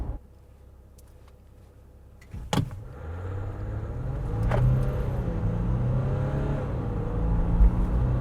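A 2020 Ram 1500 Rebel EcoDiesel pickup truck starts up with a sharp thump, then its engine rumbles and rises steadily as it accelerates, heard from inside the cab.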